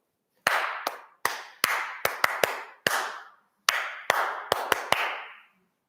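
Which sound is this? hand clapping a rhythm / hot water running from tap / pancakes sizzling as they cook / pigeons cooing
hand clapping a rhythm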